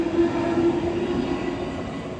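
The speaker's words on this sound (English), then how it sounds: "As the train leaves" A London Underground Northern Line train pulls away from the platform, giving a steady close rumble with a sustained motor whine and no voices.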